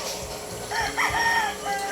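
A rooster of the pumpkin hatch breed, dark-legged, crows once, a clear nearby cock-a-doodle-doo rising and trailing off over faint background noise.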